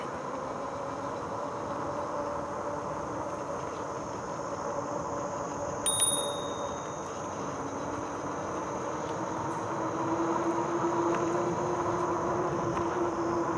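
A single bright bicycle bell ding rings out once on a Busse Woods bike trail, short and fairly clear over constant outdoor insect and ambient hum.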